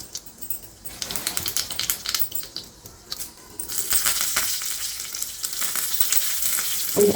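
Tempering spices hit hot oil for a Telangana-style peanut and sesame chutney, starting with scattered crackling pops and stirring, then swelling into a loud, steady close sizzle.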